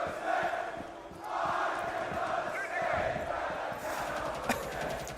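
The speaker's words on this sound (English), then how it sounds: "The chants are in full force." Live esports arena crowd at a Rainbow Six Siege match, a broad roar of chanting and cheering swelling and sustaining throughout, with a commentator's voice faintly underneath.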